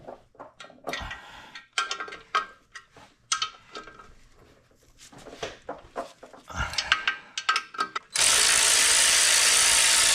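A ratchet works on the clutch and pressure plate of a Ram 402 setup during removal of a Tremec TKO600 transmission, giving bursts of rapid close clicking with pauses, then a loud steady hiss at the end.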